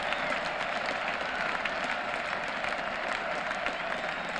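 Crowd at Lord's cricket ground during a 1981 Benson & Hedges Cup final applauds a six with broad, steady clapping and cheering that fills the whole stretch at a distant, even level.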